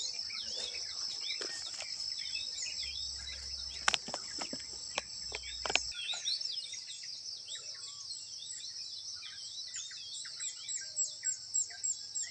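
Birds chirp and call repeatedly in open outdoor air, with insects buzzing steadily underneath and a few sharp knocks early on.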